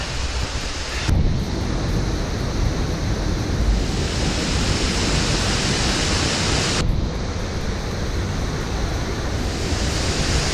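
Christie Falls roars after heavy rain, a loud, unbroken wall of rushing water heard up close and alone, with surges of wind buffeting the microphone.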